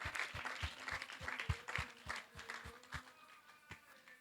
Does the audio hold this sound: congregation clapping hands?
yes